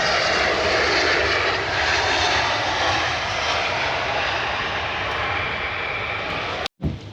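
An airplane engine roars near an airport, a loud, broad, steady rumble that slowly fades slightly over several seconds before a brief cutout.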